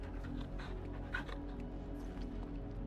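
A dog in the video game Final Fantasy 16 pants rapidly and steadily up close, with faint whimpery breaths, over a constant low game-ambience hum.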